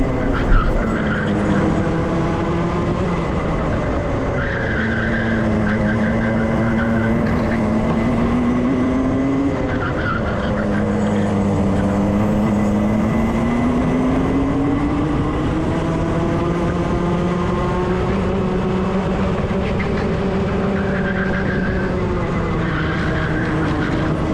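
Club100 junior racing karts at Buckmore Park, several engines whining and rising and falling in pitch as they lap the track, loud and continuous, with commentary talking over them.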